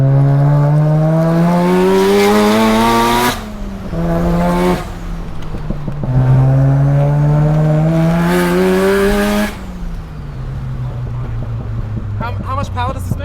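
A Mazda FD RX7 rotary sports car pulls hard along a winding mountain touge road in Sydney, its engine rising in pitch through repeated loud accelerations with brief drops between gear changes, heard from inside the cabin with occupants talking over it.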